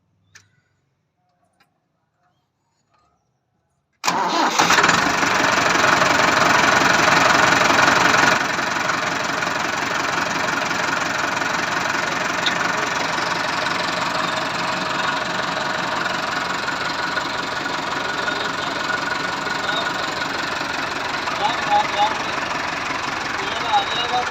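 After a few seconds of near silence, a Massey Ferguson 375 diesel tractor engine with a Stanadyne pump cranks and catches, roaring loudly at first, then settling into a steady rumbling idle.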